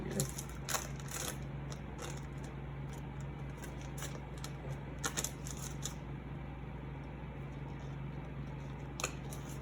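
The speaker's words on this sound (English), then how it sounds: "So let me just open it. Tear label here." A cardboard mail package's label is torn open in a few short, sharp, crackling rips, spaced irregularly over a steady low background hum.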